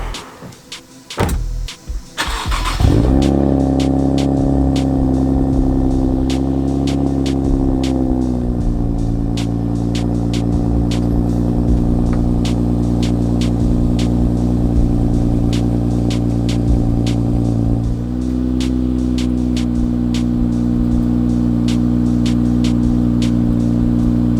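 A car with a three-piece setup cold starts: a crank and catch, then a loud, steady, rumbling idle that settles lower partway through, with faint ticking on top.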